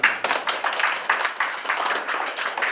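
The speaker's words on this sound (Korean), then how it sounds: "뜨거운 박수로 환영해 주시기 바랍니다." A seminar audience claps to welcome the keynote speaker, a former national assemblyman, with dense, steady applause of many hands at moderate distance and no talking over it.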